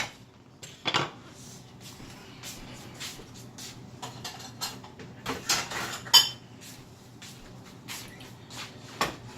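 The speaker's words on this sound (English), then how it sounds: "I'm gonna put a lid on there" Metal lid clanks and clatters onto a cooking pot in a kitchen, a few sharp close knocks and rattles among quieter handling noises.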